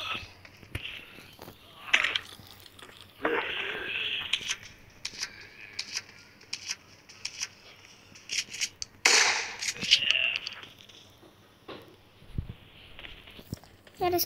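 Rapid video-game gunfire sounds as a player shoots zombies and a Tyrant, with sharp cracking bursts in clusters and short pauses between volleys, loud and close.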